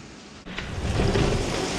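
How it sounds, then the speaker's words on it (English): Rain falls steadily during a Ryze Tello drone flight outdoors in a storm, a dense hiss of drops swelling after a short lull, with no voices heard. "It's raining"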